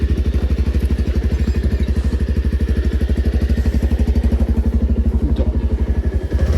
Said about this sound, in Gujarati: જય બુવાજી તો બાઈક ચાલુ કરી દીધી હા.